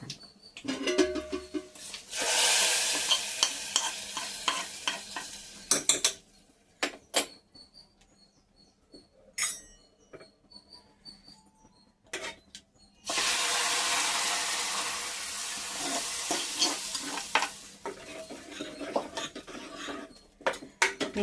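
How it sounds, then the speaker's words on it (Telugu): Loud crackling sizzle of tempering spices hitting hot oil for tomato dal, rising in two long bursts with quieter clinks and scraping of stirring between them. "స్టవ్ మీద తాలింపు వేగిపోయింది కదా ఇలా వేసేస్తాను"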